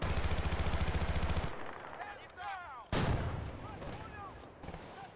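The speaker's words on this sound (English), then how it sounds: "Who the hell is shooting me?" Sustained automatic gunfire from enemies in a shooter video game, a dense continuous volley for about a second and a half, then a burst of scattered shots and chirpy effects with a brief loud blast before it tapers off.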